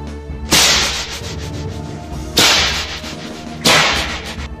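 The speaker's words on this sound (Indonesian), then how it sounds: "Ledakan cambuk yang dahsyat sekali, seperti ledakan petir yang bersabung di langit." Three sharp whip cracks, evenly spaced about two seconds apart, each a loud snap that trails off into a hissing decay.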